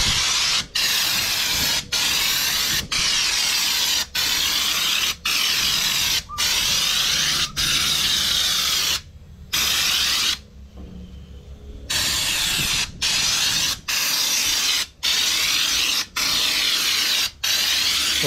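Loud, steady spray hiss from a spray gun applying Raptor bed liner to a trailer, in repeated bursts cut by brief pauses, with a couple of longer gaps where the spraying stops.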